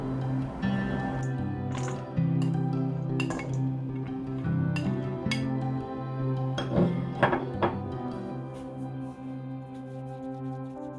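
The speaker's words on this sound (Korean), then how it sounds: "물기를 쫙뺀 감자 반죽을 보울에 넣고 다진 고추와 섞어줍니다" Drained potato batter and chopped chili peppers are mixed in a bowl, giving soft squishing with scattered clinks and taps of a utensil against the bowl, close and moderate.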